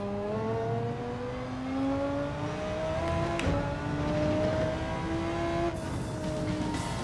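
A fast race car in Gran Turismo 7 roars steadily at high revs, its engine note climbing through the gears with brief shifts and a faint tire squeal, loud and close with no talking.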